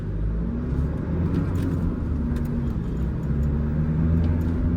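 A Toyota Innova Crysta 2.4 V pulls away in power mode on a rough road, its engine giving a steady, loud, low rumble heard from inside the car throughout, with no voices.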